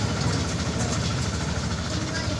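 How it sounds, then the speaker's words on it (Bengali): A park ride train slows to a stop with a low, steady mechanical rumble and faint rhythmic rattling of its wagons, heard up close and continuous throughout. "এখন ট্রেনটি এখানে থেমে যাবে ট্রেন ইতিমধ্যে থেমে যাচ্ছে"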